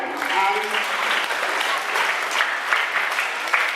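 Steady, dense clapping from a large audience, sustained throughout with no break, with a brief voice audible at the start.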